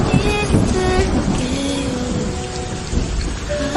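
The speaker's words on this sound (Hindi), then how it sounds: "ओह नो, अब तो ये बारिश भी शुरू हो गई है।" Rain starting to fall, a dense steady hiss of drops on surfaces with low rumbling underneath, loud and continuous, while tonal music plays over it.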